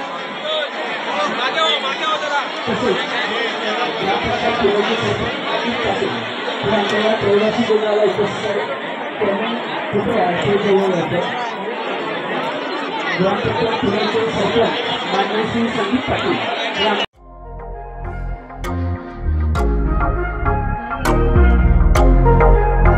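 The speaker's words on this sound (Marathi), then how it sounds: "तर गर्दी बघू शकता भरपूर असा।" A large crowd chatters and murmurs at the Ugvai Devi temple gondhal festival in a Konkan village, a dense continuous babble of many voices lasting about seventeen seconds before music abruptly takes over.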